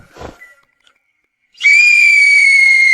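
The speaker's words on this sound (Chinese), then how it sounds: "对，吹哨子。" A whistle blown sharply on a street, a single long shrill steady blast that starts abruptly after a brief rustle and holds loud and close to the end.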